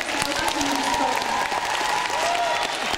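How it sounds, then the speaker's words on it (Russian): Festival audience applauding participants at an animation festival screening block, a steady wash of clapping with voices talking and murmuring through it. "Еще больше аплодисментов."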